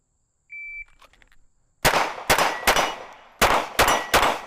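Six sharp pistol shots ring out close by on an outdoor range, the first two in quick succession and the last three tightly grouped, after a short electronic beep and faint clanks.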